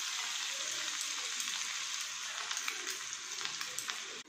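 Finely chopped garlic sizzles steadily in oil and melted butter for pav bhaji, a dense continuous frying hiss with a few small crackles near the end.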